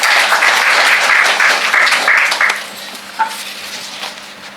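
An audience at a Tamil book launch applauds the poet Thamarai Bharathi, a dense crowd clapping close and loud for about two and a half seconds before fading into a few scattered claps.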